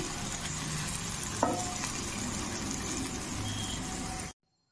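Continuous soft sizzling of mixed vegetable pieces frying in oil, with a brief clink partway through, then it cuts off abruptly into silence.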